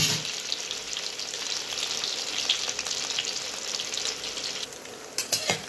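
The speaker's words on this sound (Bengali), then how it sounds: "পনিরগুলিকে আমরা উল্টে পাল্টে একটু লাল লাল করে ভেজে নেব।" Pieces of paneer frying in hot oil in a pan, with a loud continuous crackling sizzle and a few clacks of turning near the end, and no talking.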